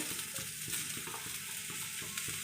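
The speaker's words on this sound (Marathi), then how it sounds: "आता मी मसाला भाजायला घेते गरम झालेला आहे कांदा घालते याच्यावरती" Onion fries in hot oil in a pan for a masala, producing a faint, continuous crackling sizzle with light rhythmic stirring scrapes throughout.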